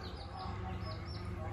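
Young chicks at a home peep in short, high, rising chirps, several quick calls in a row over a low background hum, with some voice activity mixed in.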